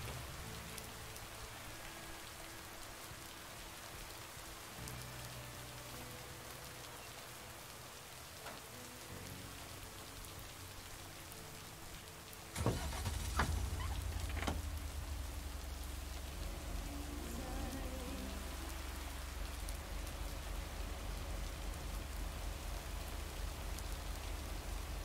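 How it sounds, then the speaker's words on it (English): Steady rain falls in a video game on a stormy lake night, a constant even patter that grows suddenly heavier and louder halfway through, with a brief crackle like distant thunder and no talking. "Sound of rain is so peaceful."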